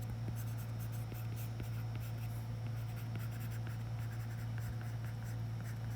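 A pen scratches out a book name in a workbook with soft, irregular strokes, faint and close over a steady low electrical hum.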